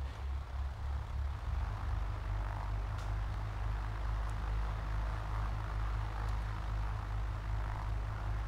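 Bush plane engine in a flight simulator game, a steady low droning hum held throughout at an even level, with faint light clicks now and then.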